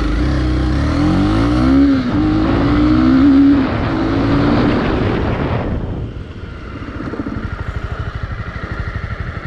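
A Honda CB300R motorcycle engine roars loudly, then drops abruptly as the bike brakes hard in an ABS test, settling into a low, pulsing idle.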